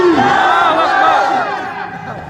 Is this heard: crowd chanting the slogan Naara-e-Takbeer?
yes